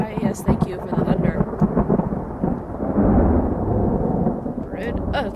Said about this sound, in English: thank you for the thunder